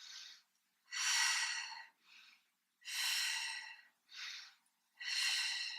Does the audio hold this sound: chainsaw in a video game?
no